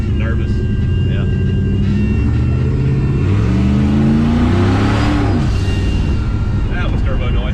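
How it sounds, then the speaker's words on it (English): A 1969 Valiant car on a test drive, its engine rising and falling with a whooshing turbo-like whir beneath loud continuous road and cabin noise, with people talking inside. "That was turbo noise."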